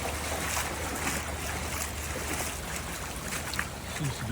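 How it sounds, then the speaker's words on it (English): Floodwater pours through a property during the September 2023 Franschhoek flood, making a continuous, full rushing roar that holds steady throughout. A low hum sits underneath, and there is no speech. "The water is just pouring through here."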